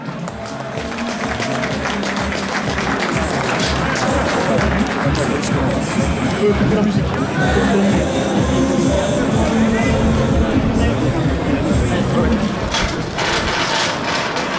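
Sustained stadium applause at a football match honours a player, with dense, steady clapping and crowd noise holding for well over ten seconds under an announcer's voice.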